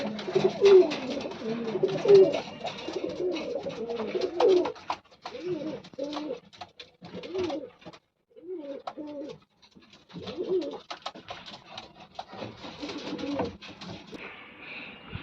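Pigeons in a loft, a Guldar male and a Dubas female, give repeated soft throaty coos in short bursts with brief pauses, close by and clear, with no talk.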